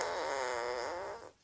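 A single drawn-out fart sound effect buzzes steadily for about a second, then trails off and stops abruptly.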